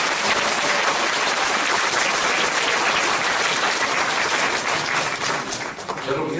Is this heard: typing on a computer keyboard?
no